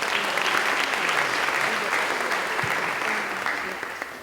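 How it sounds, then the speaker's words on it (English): Steady, dense applause from a crowd at a police customer service awards ceremony fills the room, holding level before tapering slightly at the end. "how about another round of applause for him?"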